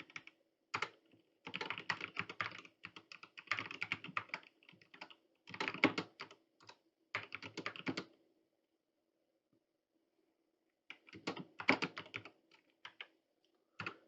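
Bursts of typing on a computer keyboard while entering code for a Java while loop, quick irregular clatter in several runs with short pauses and one longer gap, close and alone with no talk.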